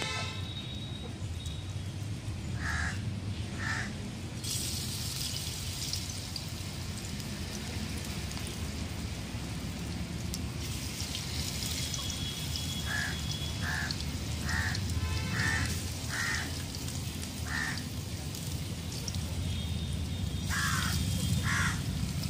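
Crows caw from a ripe jackfruit tree in a short series of harsh calls, a pair early on and a longer run later, over a steady rain-like outdoor hiss.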